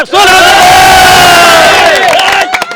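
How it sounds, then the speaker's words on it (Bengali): A crowd bursts into loud, sustained cheering and shouting, the whoops holding steady for a couple of seconds before tapering off, close and dense with no distinct speech. "একটা তালি হয়ে যাবে"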